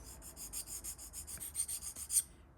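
A small file rasps back and forth against a burr on a CJRB Scoria pocketknife, a quick series of short, close, gritty strokes with soft rubbing between them.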